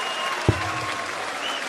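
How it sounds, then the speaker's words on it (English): A darts crowd reacts to a missed nine-dart finish attempt with a sustained wash of applause and murmuring, one sharp thud near the start, the noise staying steady and loud throughout. "the crowd oohs and ahs"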